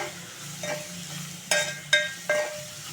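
Broad beans with crushed garlic frying in a pan, a low steady sizzle broken by three sharp stirring scrapes in the second half.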